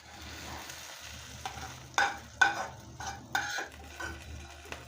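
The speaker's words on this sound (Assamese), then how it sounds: "পিয়াজখিনি ফ্ৰাই কৰা হৈ গৈছে। এতিয়া বিলাহী এড কৰিছো।" Onions and tomatoes frying in oil in a kadai for an Assamese aloo dum, a soft steady sizzle under several sharp scrapes and clinks of a spatula stirring against the pan.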